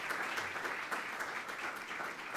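Applause from an audience at a Creole-language education event fills the room with steady, dense clapping, loud and sustained throughout before it stops abruptly.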